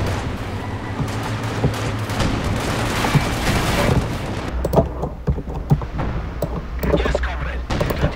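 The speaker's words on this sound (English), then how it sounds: "there are the mortars" Mortar fire in the World War II strategy game Company of Heroes 2, a dense battlefield mix of repeated thudding impacts and blasts over a steady low rumble, with sharper explosions clustering in the second half.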